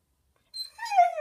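A pet dog gives a short whimpering whine after a moment of silence, a brief rising-and-falling yip, close and clear.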